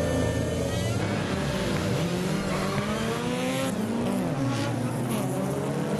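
Touring race cars, including a Dodge Neon SRT4 and a Mini Cooper, roar away together from a standing start in a US touring car championship, a loud, continuous blend of revving engines close by, with no talking.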